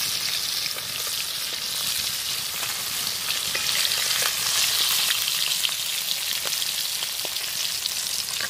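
Pieces of a 5 kg river pangas fish fry in hot oil, giving a dense, continuous close-up sizzle with fine crackling pops and no talking.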